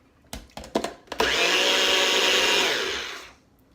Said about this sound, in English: So I'm gonna blend it real fast.